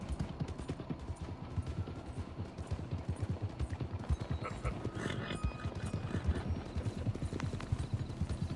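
Horse hooves clip-clop steadily in the Red Dead Redemption 2 video game, a close, repeated rhythm of hoofbeats running throughout over low ambient game noise.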